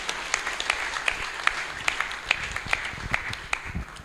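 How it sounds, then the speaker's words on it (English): A room of worshippers at a Sunday love feast applauds, many hands clapping in a steady crackle under a few louder claps that stand out near the front. "Let's hear it for Rohini."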